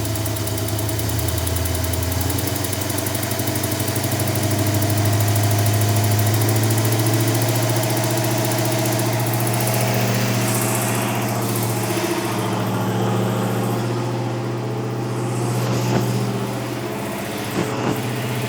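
A Ram truck engine with an exhaust leak idles steadily with a low, uneven rumble and a rough, puffing rattle throughout, close by, with no talking.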